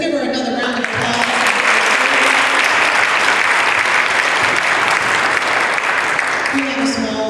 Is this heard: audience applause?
yes